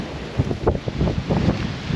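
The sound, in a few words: big gust of wind during Hurricane Nicole at the beach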